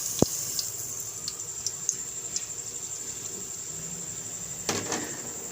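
Water is poured into a pan of sugar and green cardamom to make sugar syrup for mutanjan, a steady soft trickle with a few light clinks and drips, close and without talk.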